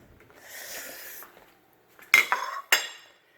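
A plate handled in a kitchen for a slice of Red Baron Supreme pizza: soft scraping and shuffling first, then a few sharp ceramic clinks and knocks close by, with no one talking.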